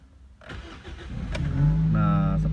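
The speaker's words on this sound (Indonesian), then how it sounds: "Langsung kita starter saja." A motorcycle engine is started: a short cranking burst, then the engine catches and settles into a loud, steady idle close by.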